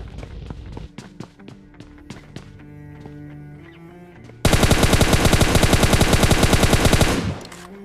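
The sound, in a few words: gunfire through walls in the video game PUBG Mobile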